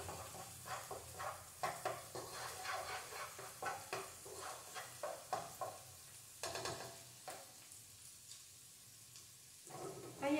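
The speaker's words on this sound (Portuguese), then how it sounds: "eu refogo um pouquinho mais o alho, a cebola, no azeite ou na manteiga" Garlic and onion are sautéed in olive oil or butter, giving a soft steady sizzle with repeated scraping stirs of a utensil in the pan, fairly quiet and close.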